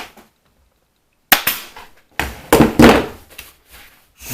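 Staple gun firing several sharp, loud snaps into upholstery fabric stretched over an antique wooden chair frame, spaced shots after a brief quiet start, close and alone without talk.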